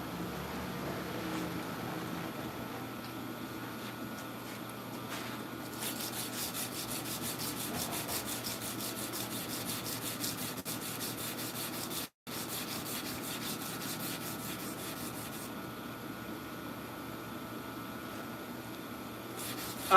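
Someone hand sands a sword blade, a faint, steady rubbing rasp that keeps going for the whole stretch with one short break partway through and no talking.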